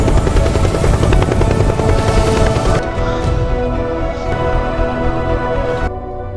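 A helicopter flies close by with a loud, steady rotor thump and turbine roar, fading slightly toward the end.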